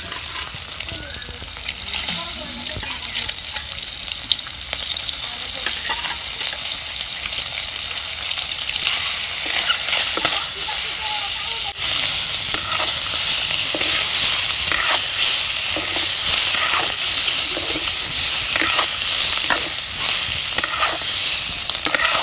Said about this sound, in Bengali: এখন আমি ভাইজা নেব